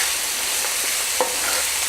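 Onions fry in a hot pan with a loud, even, hissing sizzle that runs throughout, with a few soft stirring touches and no talk.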